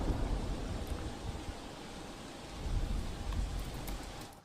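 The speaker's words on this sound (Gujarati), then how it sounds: "સુરત શહેર અને જિલ્લામાં જે રીતે ધોધમાર વરસાદ વરસી રહ્યો છે" Heavy monsoon rain pours steadily in Surat, India, in a dense, wide hiss, with a low rumble swelling partway through; no voices.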